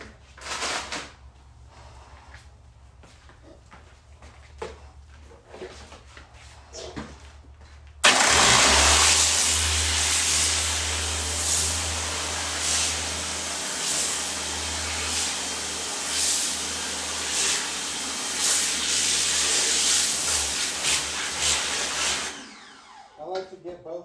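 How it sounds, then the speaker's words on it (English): A power washer blasting water onto a screen-printing screen during reclaiming, starting abruptly with a loud motor roar and hissing spray that holds steady for about fifteen seconds before cutting off, preceded by quieter handling noises. "It's so much easier with a power washer."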